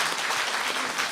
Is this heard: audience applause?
yes